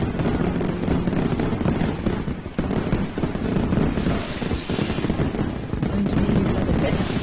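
Video-game fireworks going off in a dense, continuous barrage, a loud crackling roar of overlapping bursts and pops lasting several seconds without a pause.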